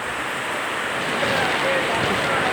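Heavy rain pours steadily at a market site in Calbiga, Samar, a dense loud hiss with no breaks.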